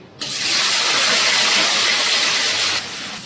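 Paneer dropped into hot mustard oil in a wok sets off a sudden loud, steady hissing sizzle that holds for a few seconds and then drops off, close and without talk.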